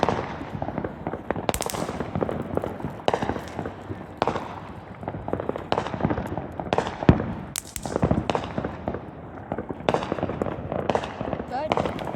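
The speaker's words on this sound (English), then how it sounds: "I thought you would want to see the fireworks around there" Fourth of July fireworks bursting around a neighborhood, a series of sharp bangs and crackles scattered irregularly at varying distances, with people talking close by throughout.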